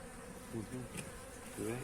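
Honeybees hum from an opened beehive during a colony inspection, a steady close buzz that swells in two brief louder pulses, with no voices over it.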